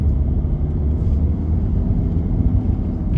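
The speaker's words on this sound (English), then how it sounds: "So up through the gears, third gear" A 2018 VW Tiguan SE accelerates up through the gears on a main road, with a steady, muffled engine drone and low rumble heard from inside the cabin and no speech.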